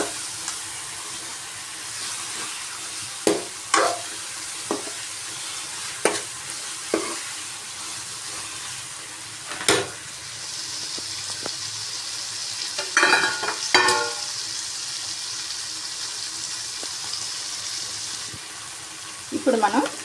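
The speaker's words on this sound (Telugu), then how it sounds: "ఇప్పుడు దీన్ని ఈ టమాటో ఈ కర్రీలో వేద్దాం. వేసి బాగా కలిపి ఒక 5 మినిట్స్ వరకు మగ్గనిద్దాం." Boiled potatoes stirred into a bubbling tomato curry, with sharp spoon clacks against the pot at irregular intervals over a soft, continuous sizzle, and a brief rougher patch of scraping near the end.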